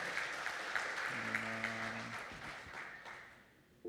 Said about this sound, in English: Come on, guys, a round of applause.